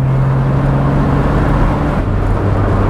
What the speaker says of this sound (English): It's a flat 6 and it produces 240 horsepower. It's quite grunty and raspy.